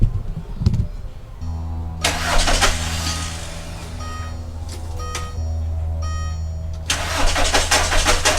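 A 2002 VW New Beetle with the ALH TDI diesel engine and a weak battery cranks with a few starter bursts, then catches and settles into a steady, loud, close diesel idle, with no talking.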